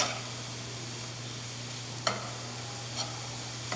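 Cauliflower rice with onions and a little garlic cooks in a pan, giving a steady, quiet sizzle with a couple of soft clinks from stirring near two and three seconds. No one speaks.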